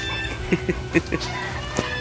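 Several poultry calls, including turkeys of a mixed breed, sound in short clucking bursts close by, spaced irregularly over a steady farmyard background with no talking.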